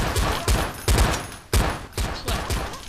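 Gunfire rings out in the video game Seal Hunter: several sharp, loud bursts land at uneven intervals, each one decaying quickly before the next.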